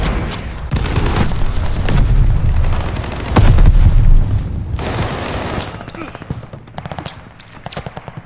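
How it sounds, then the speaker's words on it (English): Grenade blasts and gunfire in the video game Call of Duty: Vanguard, with loud booming explosions and bursts of automatic fire through most of the clip, thinning to scattered shots near the end. "Throwing grenade!"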